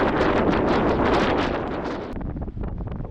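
Strong headwind on long, flat, straight country roads buffets the microphone of a moving cyclist, a loud roaring rush that fades into lighter gusting and rustle toward the end.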